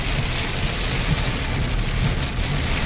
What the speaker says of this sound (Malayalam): ഇത്രയൊക്കെ നല്ല മഴ ആണ്